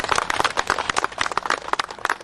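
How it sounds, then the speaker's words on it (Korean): Church audience applauding at a building ceremony, a brisk patter of many hands clapping close by, loud and continuous for a couple of seconds with no talk. "박수로 크게"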